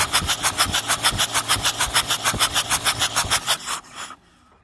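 A 1966 Ford 4000 diesel tractor engine is cranked over, giving a fast, even rhythmic chugging of compression pulses for about four seconds before the starter cuts off and the clip goes quiet.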